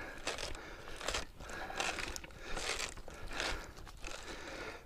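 A plastic water filter housing on a spotless DI water system being screwed back on, a series of close, grinding, ratcheting scrapes in several bursts as the threads turn.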